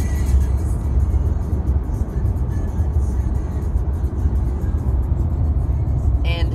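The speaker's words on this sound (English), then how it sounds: "Apparently there's many cars over there." Steady low rumble of many cars driving on a road near Orlando, a continuous broadband traffic wash with no single vehicle standing out, heard from some distance with no talking.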